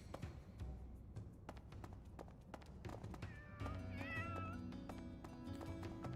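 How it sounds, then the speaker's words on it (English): A cat in the Fire Emblem game where the player works as a professor gives a few short meows over ambient game music and footsteps, fairly close and moderate in level. "Cat's over here."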